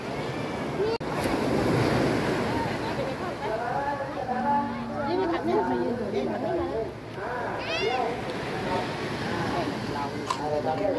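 Sea waves on the Gulf of Thailand coast near Tha Sala, Nakhon Si Thammarat, make a steady, loud wash of surf with wind buffeting the microphone while people talk over it nearby.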